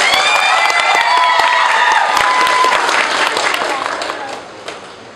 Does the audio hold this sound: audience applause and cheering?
yes